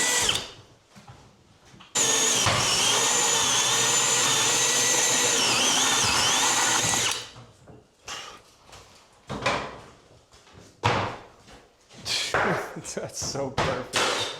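A power drill drilling holes, used by someone for the first time, runs as one loud, steady whine for about five seconds. Before and after it come quieter clatter, knocks and talk.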